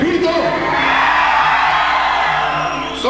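A concert crowd shouts together on cue at a 1995 show in Rostov, a sustained loud mass yell that fills the space and fades slightly at the end.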